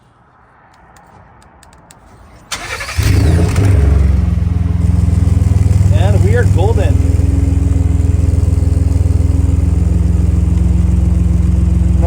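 2017 Ford F150 Platinum with an EcoBoost engine, running after an exhaust leak fix: a quiet lead-in, then the engine starts and settles into a loud steady idle with a few brief revs, and someone speaks briefly over it.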